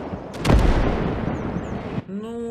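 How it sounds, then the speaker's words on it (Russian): A heavy artillery gun fires in the World War II strategy game Call to Arms: Gates of Hell. One loud, booming shot and explosion roll out as a broad rumble, then die away into quieter game sounds. "давайте один выстрел посмотрим, как взрывается"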